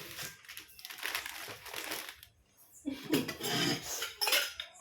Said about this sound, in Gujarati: બધા લોટા, બધા માતાજીના વાસણ